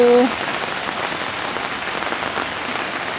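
Steady rain falls on vegetable plants such as phak khao thong, a dense, even hiss of drops on leaves that runs unbroken throughout.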